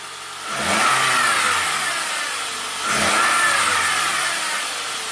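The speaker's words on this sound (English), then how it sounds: "Can we rev it up and get this thing to advance the camshaft just by inertia?" A Toyota Camry engine revs twice in quick succession, each rev rising sharply and then holding at a high, steady pitch before easing back. Heard close up with no one talking, the car has a rattle and stalling fault.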